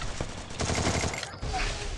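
Bursts of rapid gunfire from the Free Fire video game, a dense crackling fusillade with a brief gap, heard close and loud against game ambience.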